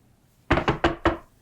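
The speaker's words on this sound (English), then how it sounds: "You just hear that knock on the wagon." Four sharp knocks on a wooden wagon, struck in a quick, slightly uneven rhythm, close and distinct against a quiet background.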